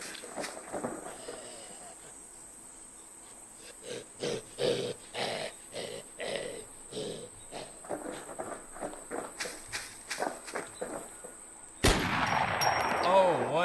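Shotgun blasts in the zombie video game Romero's Aftermath: a run of sharp, evenly spaced shots over steady background noise, ending in a louder, denser burst.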